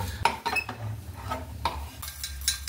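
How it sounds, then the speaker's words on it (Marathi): Whole spices dry-roasting in a pan for chyawanprash powder, with light rattling scrapes and metallic clinks of stirring over a low hum, close and fairly quiet. "सर्व मसाले आपण आहे ना असे छान एकत्र भाजून घेऊया"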